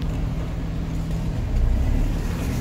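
A 2006 Cummins diesel truck with a G56 manual transmission pulls away, its low engine drone building steadily with a rise in rumble partway through, close and continuous with no talking.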